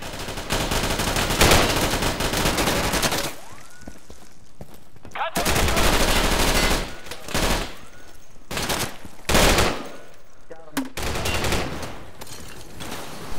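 Rapid automatic gunfire in the Insurgency video game, loud bursts of sustained shooting separated by short quieter gaps, with occasional echoing impacts.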